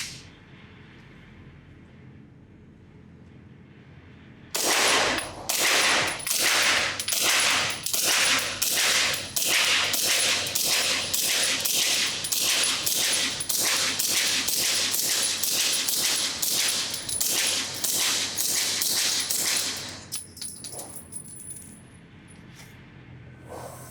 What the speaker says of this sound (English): I'm going to put one magazine through this and just see, is this gun accurate, what the recoil is like